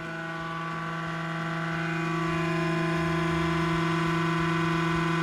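A gaming computer gives a continuous electrical-mechanical hum with steady tonal whine, rumbling like a small tractor engine and gradually growing slightly louder.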